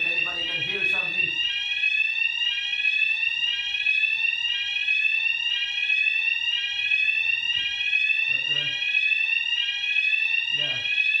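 A loud fire alarm rings continuously through a lecture hall, its steady repeating electronic tone filling the room while people talk briefly over it.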